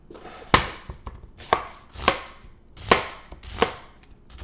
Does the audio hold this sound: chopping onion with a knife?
yes